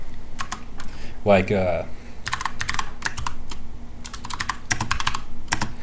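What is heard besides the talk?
typing on a computer keyboard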